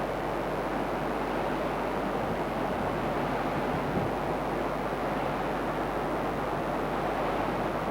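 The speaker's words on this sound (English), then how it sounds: "Quite a spectacular waterfall." Scaleber Falls waterfall in the Yorkshire Dales, a steady broadband rush of falling water that stays constant and even throughout, with no voices.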